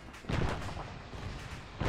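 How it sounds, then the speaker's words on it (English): An ammo dump going off in a military shooter game, a dense, sustained roar of blasts and rumbling detonations, loud and close throughout. "I may have accidentally set off the ammo dump."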